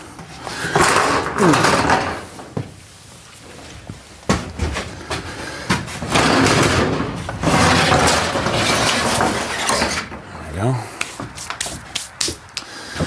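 A garage or shed sliding door that has come off its track is shoved and dragged, giving repeated loud scraping, rattling and clunking bursts with brief pauses and a metallic squeal near the end.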